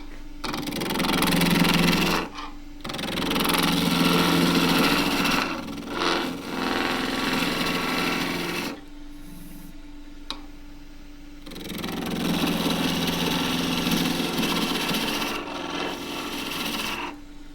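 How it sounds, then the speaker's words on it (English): A 1-inch skew chisel rasps against endgrain wood spinning on a lathe while an endgrain cup is turned round, giving loud sustained cutting bursts broken by short pauses, with the motor's steady hum underneath. "So first thing is to get it round in a 1-inch skew chisel."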